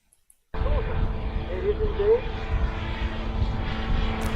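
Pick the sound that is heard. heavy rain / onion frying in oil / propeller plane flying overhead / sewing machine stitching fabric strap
propeller plane flying overhead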